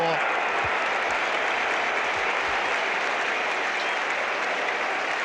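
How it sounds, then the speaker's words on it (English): Cricket crowd at the 1975 World Cup Final between Australia and West Indies roaring and applauding a boundary, a dense, steady wash of clapping and cheering throughout, with a commentator's voice faintly mixed in. "the crowd unable to contain themselves, can't sit still in the seats."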